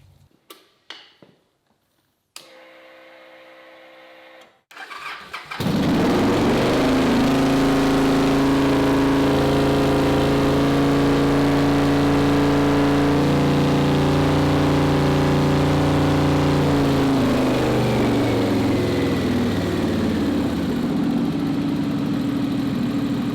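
A Victory V-twin motorcycle engine cranks over briefly, catches and fires up, then settles into a loud, steady idle with a rumbling, even beat close by.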